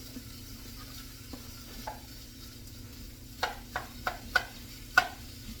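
A ribeye steak browns in a pan with a soft, low sizzle, then a run of sharper clacks and scrapes as it is stirred and moved about, fairly quiet and close.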